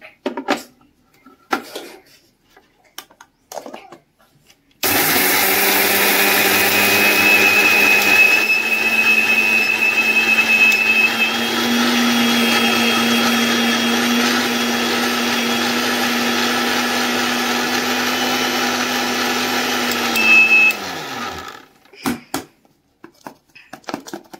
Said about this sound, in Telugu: దీన్ని అయితే మిక్సీ పడదాం.